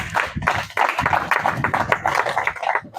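A church congregation claps together to acclaim the word of the Lord, producing dense, continuous rhythmic hand claps that are loud and close, with faint voices mixed in.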